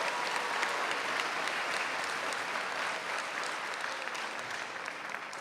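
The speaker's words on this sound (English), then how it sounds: "Let's give them a round of applause again." A commencement audience at a spring college graduation ceremony applauding student speakers, sustained broad clapping from a large crowd that holds steady and then slowly eases off.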